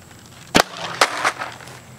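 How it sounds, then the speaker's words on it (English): Arrows shot from an instinctive archery bow strike a bottle outdoors: two sharp, close impacts about half a second apart, followed by a softer third knock, against a quiet background. "Let's shoot this bottle out"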